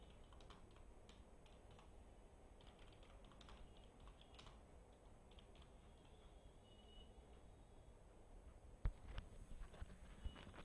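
Soft, steady clicking of computer keys as text is typed for an HTML formatting lesson, faint and close with a low background hum, ending with a few louder taps.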